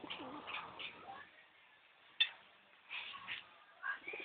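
Pigeons in a loft coo softly in several short bursts, with a single sharp click or tap near the middle and quiet pauses between calls.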